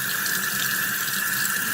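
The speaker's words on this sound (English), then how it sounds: "And then I rinse them to rinse all the crap out of them." Steady, continuous rush of a running sink tap as bags of aquarium charcoal are rinsed under it, close and even for the whole stretch with no talking.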